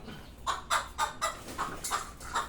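Gold Japanese White Chabo bantam chickens clucking and fussing, about eight short, nasal clucks in a loose rhythm, close and moderately loud, with no talking.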